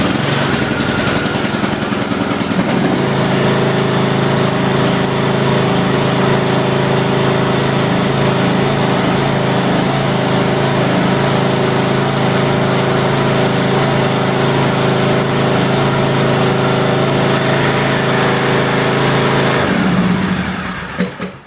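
A small engine, choked and pulled to a cold start after sitting about two weeks, catches at once and settles into a steady, loud idle close by, running nearly twenty seconds before cutting off.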